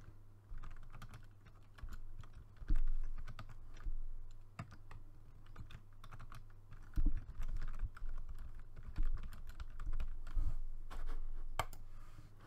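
Fingers typing on a computer keyboard, entering a name during a Windows setup, giving irregular bursts of close, crisp key clicks with brief pauses in a quiet room.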